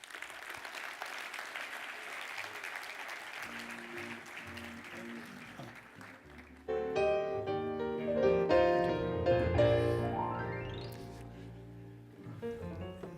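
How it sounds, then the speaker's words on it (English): Conference audience applauding a keynote speaker at a HIMSS opening keynote, broad clapping for about seven seconds, then giving way to loud, rising music that swells and fades toward the end. "Please, a warm hand of applause for Hal Wolf"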